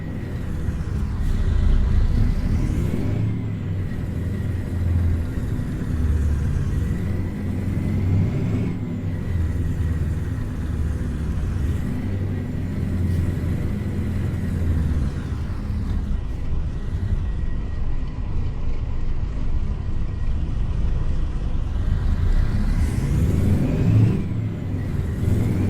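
A heavy Mack truck engine in American Truck Simulator rumbles steadily with low, continuous drone, rising and falling slightly as it revs, with no talking.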